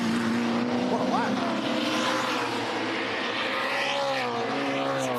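Touring Car Masters race at Townsville, where a 5-litre V8 Torana and a 4.5-litre straight-six Valiant race close together, their engines a loud continuous roar with rising and falling pitch under steady commentary.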